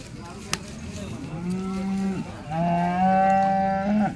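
A cow at a cattle market near Indapur, Pune, moos twice in long, low, droning calls, the second louder and fuller. A sharp knock comes just before them.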